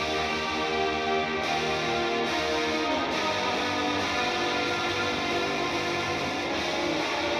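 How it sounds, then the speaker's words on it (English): Sustained, distorted electric guitar chords through a stereo delay effect, spread wide with a repeating echo trailing behind, playing continuously without any talking. "And because it's a delay, you're getting the sound, and it's delayed over there"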